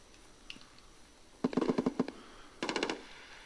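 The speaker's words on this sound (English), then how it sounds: "Trying to figure out who's that sniper shooting big bullets there." Distant gunfire in Escape from Tarkov, two short rapid bursts of crackling shots a second apart, faint and far off over quiet ambience.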